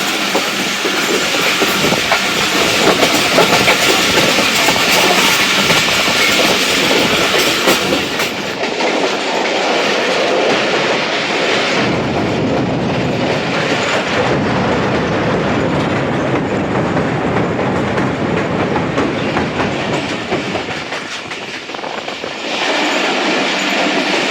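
Awam Express passenger train rolling on rails near Chaklala, a steady loud rumble and clatter of wheels with rhythmic clickety-clack and occasional squeal, heard from on board with no talk.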